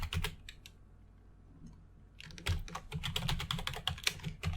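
Keys clatter on a computer keyboard while code is entered: a quick burst of taps, a short pause, then a denser run of rapid, close keystrokes.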